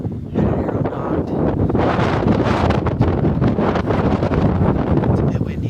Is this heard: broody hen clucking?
no